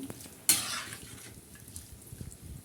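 Vegetables stirred and mixed in a pan, with a sharp metallic scrape of the utensil followed by a soft sizzle and quieter stirring scrapes, close and without talk.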